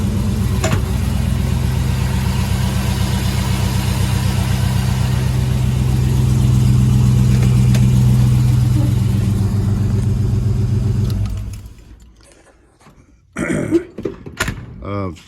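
A 1987 square body truck with an LS engine swap, idling loud and close with a steady, throbbing low rumble for about eleven seconds before shutting off, followed by a few short knocks and clunks.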